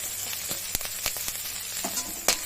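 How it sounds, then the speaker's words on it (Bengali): Chopped garlic, ginger and green chilli sizzle in hot oil for chilli paneer, a steady close frying hiss broken by several sharp crackles and pops, with no talking. "ওই তেলের মধ্যে এবার রসুন কুচি যেগুলো করে রাখা হয়েছিল সেগুলোই দিয়ে দিলাম।"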